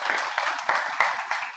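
A conference audience claps briefly, with a small scattering of individual hand claps coming in loose, uneven bursts at moderate volume.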